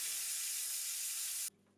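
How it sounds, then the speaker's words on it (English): A steam cleaner mop sprays steam onto an old shower stall, a loud, steady high hiss lasting about a second and a half before cutting off abruptly into quiet. "I chose a small area for the experiment and started treating it with steam"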